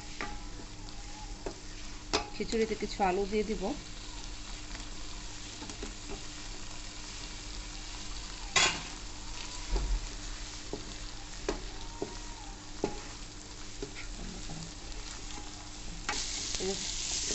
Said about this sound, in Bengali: চাল ডালটা ভাজা ভাজা করতেছি।